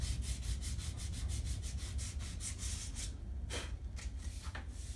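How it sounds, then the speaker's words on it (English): Rapid, even back-and-forth strokes of hand sanding on wood, close and rasping, slowing into a few slower, separate rubs toward the end. "There's something very satisfying about sanding."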